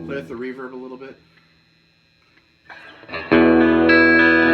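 A Rickenbacker 330 electric guitar played through a Boss Katana 50 amp with reverb: a few ringing notes, a short pause, then a loud sustained chord.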